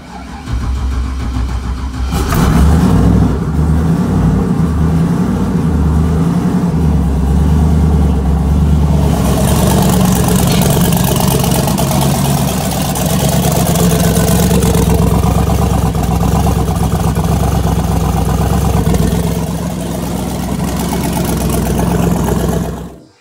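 A car engine fitted with Holley EFI cranks briefly and catches, then settles into a steady, loud running idle close by that holds for about twenty seconds with no talk over it.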